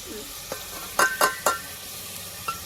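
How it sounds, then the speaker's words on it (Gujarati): Oil sizzles and crackles steadily as onions and spices hit the pan for tempering, with a few louder spitting bursts partway through. "હવે આપણે કરવાનો છે વઘાર"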